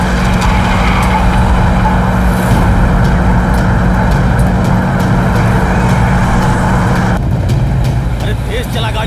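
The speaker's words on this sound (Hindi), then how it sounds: "ए गाड़ी तेज भगाओ" A car speeds along a road in a dubbed South Indian movie scene, its steady loud engine and road roar filling the whole stretch with a brief change near the end, while voices talk over it.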